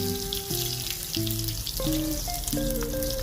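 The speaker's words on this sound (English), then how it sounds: "See, they are smaller, so they take a shorter time to fry." Jamaican saltfish fritters sizzle steadily in hot oil in a pot, a continuous close crackle with occasional scraping and stirring, and no talking.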